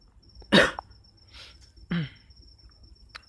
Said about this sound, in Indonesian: Maaf teman-teman, saya lagi batuk.